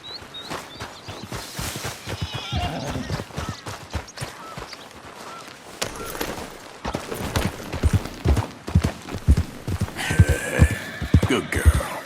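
Horse whinnies and hooves clip-clop in Red Dead Redemption 2, starting as scattered steps, then a busier stretch of hoofbeats with a neigh near the end, the sounds of the game world heard throughout.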